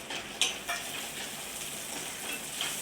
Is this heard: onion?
yes